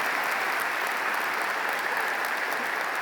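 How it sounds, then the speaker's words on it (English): A large audience at a high school commencement ceremony applauds in a dense, steady roar of many hands, loud and unbroken throughout. "Once again, a thunderous round of applause"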